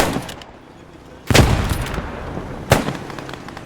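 Gunfire in the World War II shooter game Squad 44, two sharp loud shots about a second and a half apart over a low background rumble.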